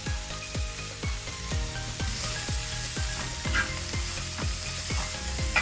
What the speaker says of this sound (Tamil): பாருங்க, வெங்காயம் நல்லா வதங்கிட்டுது.